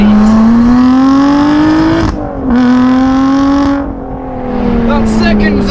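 A small, lightweight Lotus sports car accelerates hard, its engine note climbing steadily, then dropping briefly at each of two quick gear changes before rising again, loud and close from inside the car.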